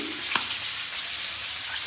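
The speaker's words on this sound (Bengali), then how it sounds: "এদিকে ফুলকপিটা ভেজে নিচ্ছি" Oil hisses and sizzles steadily as cauliflower fries in a pan, with a small clink early on.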